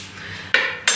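A spoon stirs a vegan pâté en croûte filling in a bowl, giving two quick metallic scrapes and clinks against the dish, close and distinct with no talk.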